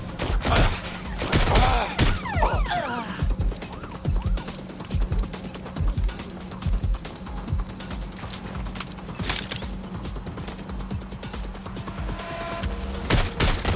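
Gunfire in the Watch Dogs: Legion video game comes as sharp bursts and scattered shots over a steady low game hum. The loudest volleys sit near the start and the end, with a few spoken lines in between.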